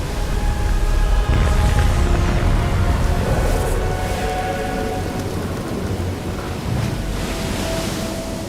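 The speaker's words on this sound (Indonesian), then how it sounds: "badai besar muncul tiba-tiba dengan ombak setinggi 2 meter" A cartoon thunderstorm over a lake: heavy rain roars steadily and unbroken while waves about two meters high crash, and rumbling thunder swells through it, loud and dense with no voices.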